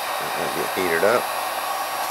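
Heat gun blowing hot air to shrink plastic wrap around a freeze-dried tomato, ham and cheese sandwich, a steady close whooshing blower with a brief wavering whine, alone without talk.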